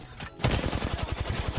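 Rapid automatic gunfire in the Apex Legends battle royale game, a dense burst of repeated shots that starts abruptly and rattles steadily and loudly to the end.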